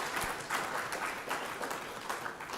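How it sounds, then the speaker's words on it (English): An audience at a conference valedictory function gives a steady round of applause, dense overlapping clapping that fills the whole stretch at an even level. "give a huge round of applause for Dr."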